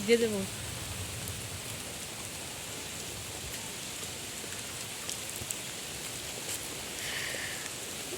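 Soft, even hiss of rain falling steadily, fairly quiet and continuous, with a brief louder knock at the very start.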